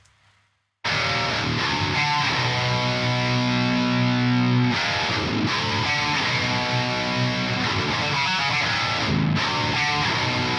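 Double-tracked, heavily distorted 7-string electric guitar through a Granifier amp and Cali Cab, loud and dense, with sustained chugging riffs and brief gaps after a silent start.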